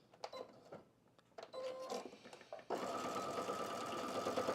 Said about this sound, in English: I'm going to sew that side seam on the lining first.